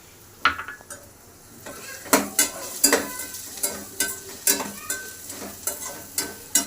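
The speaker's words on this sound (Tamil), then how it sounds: "பச்சை மிளகாய் எண்ணெயில் கொஞ்சம் நல்லா வதக்கணும்." Cut green chilies frying in hot oil in a pan, a soft sizzle punctuated by a brisk run of repeated metal spatula clanks and scrapes against the pan, close up with no voices.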